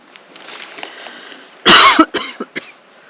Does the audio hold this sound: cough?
yes